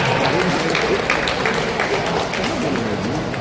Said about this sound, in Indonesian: Tepuk tangan Nasdem.